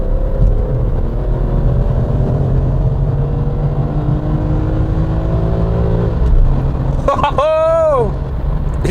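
A car engine roars at high revs with the window down, a loud sustained drone whose pitch climbs in waves before a sharp rising-and-falling rev sweep near the end, up close, with a voice talking over it.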